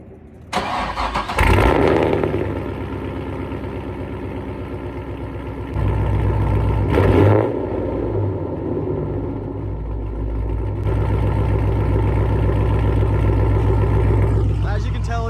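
A Cadillac CTS-V engine fires up and runs loudly, a rough, heavy, steady rumble close by that swells after a few seconds and stays loud, with a voice speaking over it.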